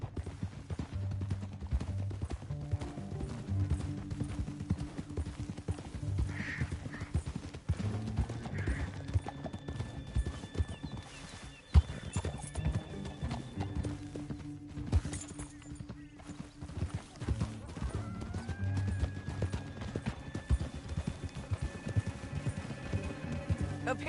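Horses clip-clopping at a steady run in the Red Dead Redemption 2 video game, with rhythmic hoofbeats continuing throughout under game music and occasional talk.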